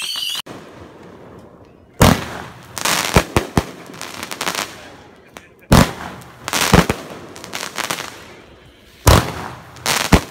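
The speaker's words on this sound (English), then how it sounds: "I guess I'll show you some last moment of fireworks" Fireworks going off outdoors on New Year's night, loud booming blasts every few seconds, each followed by crackling and rumbling tails, close by with no talk.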